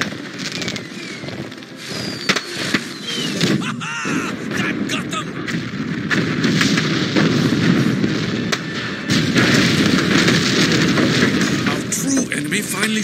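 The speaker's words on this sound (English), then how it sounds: "That swivel gun will blow the ship sky high." Swivel gun firing at a ship in the Pirate101 game, with booming blasts and crackling bursts layered into a dense, continuous din, while voices talk through it.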